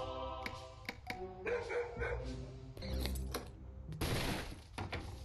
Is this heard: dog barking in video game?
yes